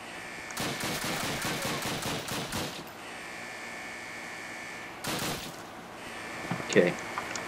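Gunfire in a World War II shooter video game during a dam mission: a long rapid burst of automatic shots, then a shorter burst later, over steady background hum, with a player's voice talking.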